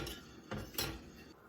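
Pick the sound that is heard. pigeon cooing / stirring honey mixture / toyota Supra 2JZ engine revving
stirring honey mixture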